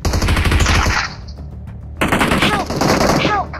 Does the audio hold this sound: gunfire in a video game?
yes